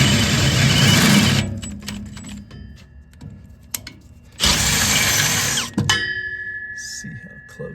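A unibit step drill cuts into the metal body of a Jeep CJ5, with two loud, sustained whirring bursts separated by quieter handling noises and clicks, heard close up.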